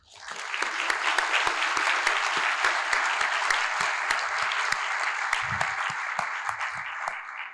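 A large audience at a Round Rock State of the City event claps steadily to welcome a speaker, a sustained wash of applause rising quickly and holding loud throughout.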